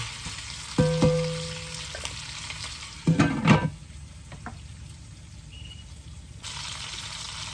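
String beans from a home garden sauté in a pan for adobong sitaw until golden brown, giving a steady close sizzle with a few utensil clinks and stirring scrapes and no talk.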